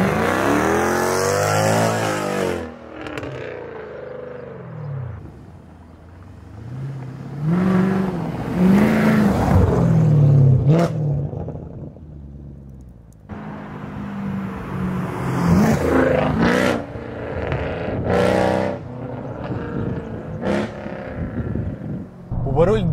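A Mercedes C63 AMG W204 estate with a naturally aspirated V8 and open Armytrix exhaust revs in loud, close bursts, rising and falling with crackles, while someone talks between the revs.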